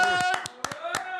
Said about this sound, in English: I'm giving you a round of applause